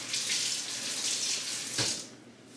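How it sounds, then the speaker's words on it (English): Tap water runs steadily as fermented sauerkraut is rinsed under it, a close continuous splashing hiss that cuts off near the end. "So, I'm going to rinse this off."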